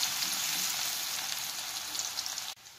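Garlic being fried in oil in a pan for Sri Lankan-style fried rice, a steady close sizzling hiss that cuts off abruptly near the end, with no talking.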